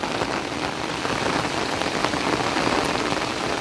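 Heavy monsoon rain in Konkan, falling on farm fields and cashew trees as a loud, dense, unbroken downpour that hisses steadily throughout.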